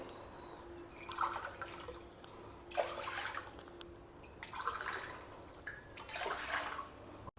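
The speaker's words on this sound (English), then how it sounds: "So in our multi kadai, we will just add some water and bring it to a boil." Water poured into a multi kadai cookware pot before boiling, heard as a few separate bursts of splashing, trickling liquid, close and moderately loud with quieter pauses between pours.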